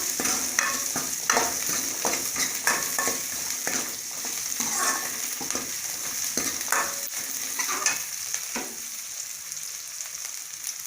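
Small onions and curry leaves fry in hot oil in a pan for a green gram dal curry, a steady close sizzle with frequent stirring clatters and scrapes, no voices.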